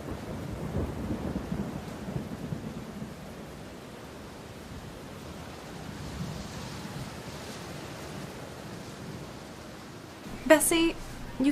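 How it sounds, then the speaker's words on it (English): Steady rain and wind blow outside a nursing home, with a low rumble of thunder early on and a sharper burst near the end; the storm stays fairly faint and continuous. "I was just watching it rain."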